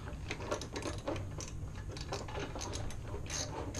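Rapid ratchet clicks from tightening an O2 sensor on a 2007-2013 R56 MINI Cooper non-S engine, a steady run of close, crisp mechanical ticks with no voices.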